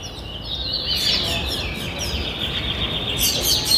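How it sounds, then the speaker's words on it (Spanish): Parrots in a park aviary give repeated high, shrill calls and chirps over steady outdoor background noise, with no talking. "Acá hay más loros."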